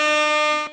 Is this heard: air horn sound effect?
yes